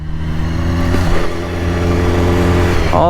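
A BMW S1000RR motorcycle engine drones loud and close at steady high revs, with a rich harmonic tone that rises slightly near the end.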